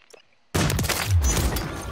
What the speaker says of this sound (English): we're getting shot at from